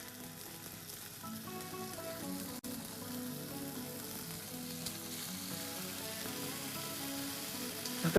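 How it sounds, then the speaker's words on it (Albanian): Smoked chicken prosciutto frying in a pan gives a continuous, crackling sizzle that holds steady for several seconds and swells slightly near the end, with faint music underneath. "Do t'i skuqim pak prosciutto."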